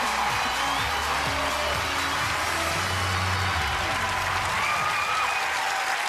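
Loud, sustained applause from a large television talent-show audience fills the whole stretch, dense clapping with some cheering mixed in.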